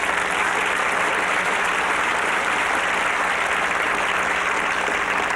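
A studio audience at a late-night talk show applauds continuously, a thick, even wash of many hands clapping at steady loudness with no voices over it.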